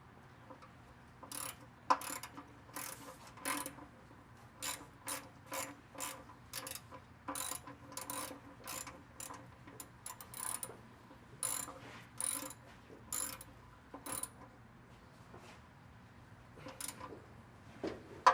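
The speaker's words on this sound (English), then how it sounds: "We're going to take our 17mm and tighten that back up." A ratchet wrench tightens the 17mm oil drain plug on a 2003 Honda Accord, its pawl clicking in quick bursts of strokes with short pauses between them, close and fairly quiet, with no talking.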